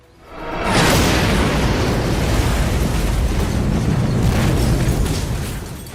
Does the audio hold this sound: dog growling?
no